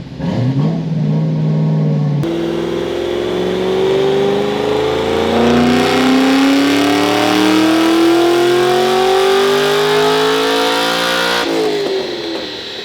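A Stage 4 Camaro Z28 engine makes a full dyno pull, its loud, close roar climbing steadily in pitch for about ten seconds after a brief idle, then dropping off sharply at the end.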